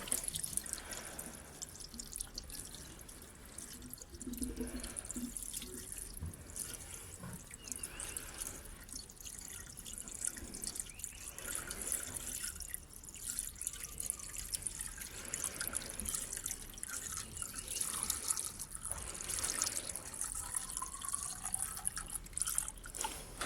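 Water pouring and trickling into a car radiator while topping up coolant, a steady liquid stream with drips and gurgles, close and fairly quiet, no talking.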